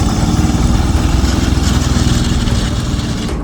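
A Panzer IV tank engine runs close by with a heavy, rumbling drone and a fast, regular pulsing throb, holding steady and loud throughout with no talk.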